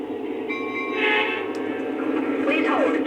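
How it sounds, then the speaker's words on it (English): A train simulator game's F40PH locomotive on the Panama Canal Railway sounds its whistle over a steady engine rumble, with a bell-like tonal layer and a brief horn blast near the middle and end, loud and close. "We'll press the aux 1 button until we get a whistle and bell."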